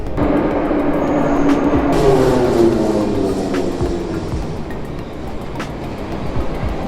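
A Saint Petersburg metro train rumbles steadily through the deep Admiralteyskaya station, a loud continuous roar of wheels and carriages with faint clicks, filling the space without any voices.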